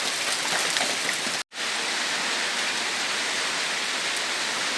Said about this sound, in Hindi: ये कितना बारिश हो रहा है